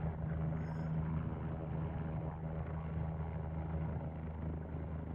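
A helicopter taking off and heading towards Dubai, its rotor and engine making a steady, loud, dense roar without breaks and with no speech.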